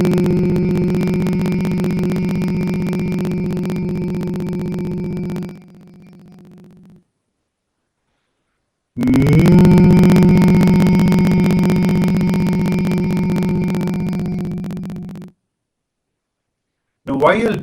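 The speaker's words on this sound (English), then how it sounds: "take a deep breath, and then hum deeply and intensely without stopping. As long as possible, just hum" A person hums deeply and steadily as a breathing exercise, two long sustained low hums lasting several seconds each, separated by a silent pause for breath, loud and close.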